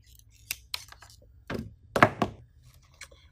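Scissors snip through flower stems while building a moss cross wreath door hanger, a handful of close, dry clipping thunks in an uneven rhythm, the loudest cluster near the end.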